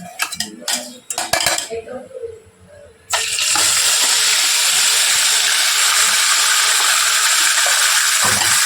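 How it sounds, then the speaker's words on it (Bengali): A ginger, onion and garlic paste for chicken biryani goes into hot oil: a few metal clinks and scrapes, then an abrupt, loud, steady sizzle that continues to the end. "পেস্ট করে নিয়ে এবার এটা আমি তেলের মধ্যে দিয়ে দেবো"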